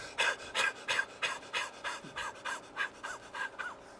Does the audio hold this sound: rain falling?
no